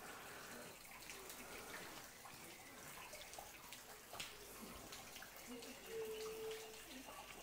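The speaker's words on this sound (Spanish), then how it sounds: "esa agua subterránea que sale literalmente de la pared" Underground water seeps and flows out of a cave wall in Gruta La Llorona, a faint, steady trickling wash that continues throughout in a quiet, humid grotto.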